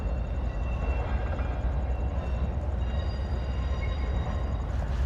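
A train rumbling near a railroad crossing on a US night-train route, a steady low roar and rolling rail noise held at even loudness throughout, with faint high whining tones above and no talking.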